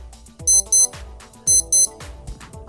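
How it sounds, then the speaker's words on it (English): Two pairs of sharp, high electronic beeps from a Casio W-26B digital watch alarm, beep-beep, a pause, then beep-beep again, over faint background music. "Your standard beep beep alarm."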